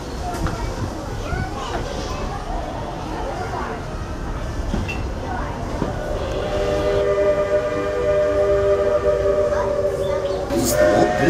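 Walt Disney World Railroad steam train pulling into Fantasyland Station, with sustained whistle-like tones rising over steady rumbling rail noise that grows louder toward the end; a recorded voice announcement plays over it.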